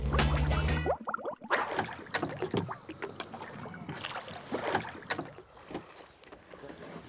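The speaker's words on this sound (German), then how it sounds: "Das ist ja voll das tolle Boot." A small fishing boat named Günther moving on the water, with a steady low motor drone under splashing, sloshing water and gusts of wind noise throughout.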